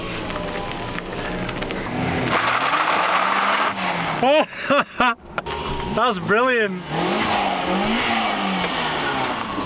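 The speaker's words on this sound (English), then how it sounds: "Literally just did a dump valve." A turbocharged K car lets off sharp blow-off valve chuffs mid-clip, around the 4–7 second mark, amid a loud idling and revving engine at an outdoor cars and coffee meet, with people talking nearby.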